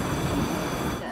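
A high-speed G1 train at Beijing South Railway Station gives off a brief, loud rumble and whoosh of rolling stock, steady and close for just over a second.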